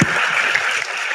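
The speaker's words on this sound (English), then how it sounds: "So a round of applause for you." Brief, steady audience applause for panelists at a community evening event at Roxbury Community College, a dense wash of many hands clapping at once, heard alone and fairly loud throughout.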